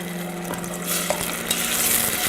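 Grated tomato, 500 grams, tipped into a pan of hot oil and curry leaves while making a fish curry, giving a steady close sizzle with stirring scrapes and a brief louder hiss as it lands.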